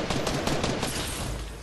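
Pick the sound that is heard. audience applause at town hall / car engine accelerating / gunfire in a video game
gunfire in a video game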